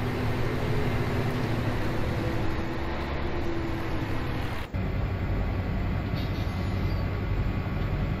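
A train in the video game Farming Simulator 17 gives a steady loud low rumble and rolling drone that runs the whole time, with a brief dip partway through and no talking.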